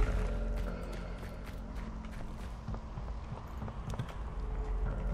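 Horse hooves from the video game Weird West clop along in a busy, continuous patter under a dense layer of game ambience and background music.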